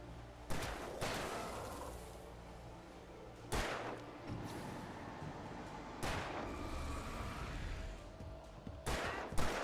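Gunfire in a first-person video game rings out in several sharp, loud shots a few seconds apart over a constant low rumble of background noise.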